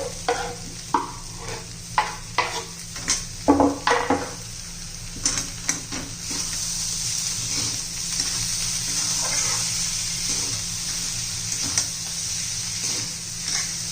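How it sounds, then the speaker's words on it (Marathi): Potato thecha with a generous handful of coriander being stirred in a pan, a run of spoon scrapes and clinks against the metal over the first half, then a steady sizzling hiss with occasional taps, no voices. "आता एखादा मिनिटभर हलवून घ्यायचं चांगलं व्यवस्थित"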